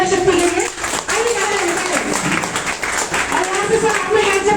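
An audience at a business achievement celebration claps loudly and continuously, dense applause at close range running throughout, with a voice speaking over it.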